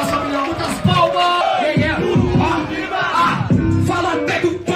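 Crowd at a rap battle roaring and yelling in excitement, with loud overlapping cheers, whoops and shouts close by and a dense babble of voices throughout.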